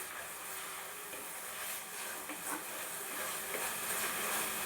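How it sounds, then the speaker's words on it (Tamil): Tomatoes and garlic sautéing in a pan for a dry-ginger tamarind curry, giving a steady broadband sizzle with faint steam hiss, continuous and fairly quiet throughout, with no talking. "நல்லா வதங்கட்டும் கொஞ்சம் வெயிட் பண்ணி"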